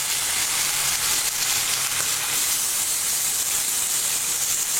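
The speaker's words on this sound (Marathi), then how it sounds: "तवा गरम करून त्यामध्ये एक मोठा चमचा तेल टाकलेला आहे" Oil hisses and sizzles steadily on a hot iron tawa being heated for homemade chicken tandoori, a loud, even, continuous frying hiss with no talking.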